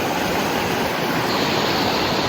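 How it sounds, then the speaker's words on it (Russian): Mountain river in the Pyrenees of Catalonia, rushing water close by as a loud, unbroken broadband roar with no voices over it. "Ну, какая классная река, посмотрите вообще."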